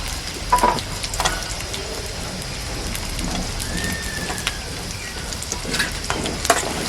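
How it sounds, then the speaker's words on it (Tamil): Garlic for a fish curry with raw mango sizzles and crackles steadily in a hot pan, a dense, even frying hiss with a few sharper pops. "நம்ம வந்து பூண்டை போட்டுடலாம் ஏன்னா பூண்டு இதெல்லாம் வந்து நல்லா வந்து வேகணும்"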